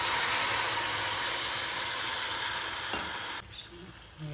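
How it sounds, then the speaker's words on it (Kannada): Pumpkin curry sizzling loudly in a pan as a little water goes in, a dense close hiss and bubbling that drops abruptly quieter near the end, with no talk. "ಒಂದು ಸ್ವಲ್ಪ ನೀರು ಹಾಕ್ತಾ ಇದ್ದಾರೆ"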